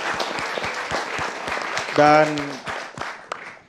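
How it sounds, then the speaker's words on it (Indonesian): Applause for the Indonesian President: a steady patter of clapping with a brief tonal ring midway, a voice speaking over it. "Tepuk tangan buat Pak Presiden."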